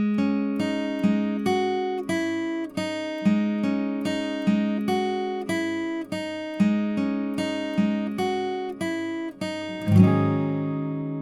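Acoustic guitar plays the intro chords of a song, a steady series of evenly spaced strummed and picked chords ringing out clearly on their own, ending on a final sustained chord.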